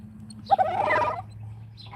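A turkey gobbles once, a loud, close, rattling burst lasting under a second, followed by a fainter call over a steady low hum.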